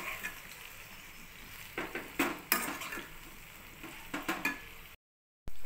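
A spoon stirs chopped tomatoes and brinjal in a pan for roti pachadi, giving close, repeated scraping and clinking strokes over a soft sizzle before a short cut to silence.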